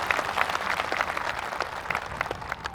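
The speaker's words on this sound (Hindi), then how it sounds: "ठोकिए ताली हमारे महापुरुषों के नाम" A crowd at a tribal political rally in Khunti, Jharkhand claps for great leaders, a sustained patter of applause from many hands at moderate distance with no talk over it.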